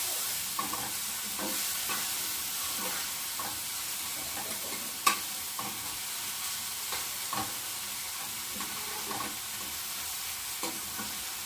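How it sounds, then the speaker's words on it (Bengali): Shrimp frying in a wok give off a steady, close sizzle, with stirring scrapes and clinks throughout and one sharp metallic clank near the middle. "চিংড়ি মাছটা ভেজে নিই।"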